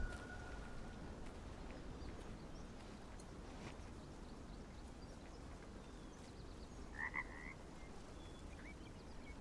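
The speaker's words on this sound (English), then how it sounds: "I'm just hearing frogs croaking with being by the water here." Frogs croak steadily by the water in the hunting game Way of the Hunter, a dense, continuous chorus at moderate distance with a few brief, brighter calls rising over it.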